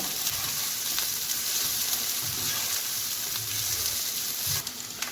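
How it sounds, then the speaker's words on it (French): Garlic sizzles in a hot pan for a seafood pasta, a steady close hiss that runs throughout, with a few soft low knocks of stirring underneath. "Alors l'ail, je le rajoute maintenant parce que je veux qu'il crame un peu."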